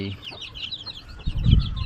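Chicks and hens on a poultry farm cluck and peep in quick high bursts, close and lively, with a dull low thump near the end.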